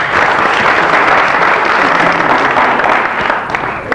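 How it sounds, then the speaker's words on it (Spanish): A studio audience at a 1994 comedy television show gives loud, sustained applause. The even, dense clapping holds steady throughout and fades slightly only at the very end. "Por favor, un aplauso para el Museo del Pueblo Gallego."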